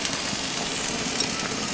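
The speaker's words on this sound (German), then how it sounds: "während unser Gemüse so vor sich hin brutzelt" Vegetables sizzle steadily in hot clarified butter (Butterschmalz) in a pan, a close, even crackling hiss that holds at the same level throughout with no talking.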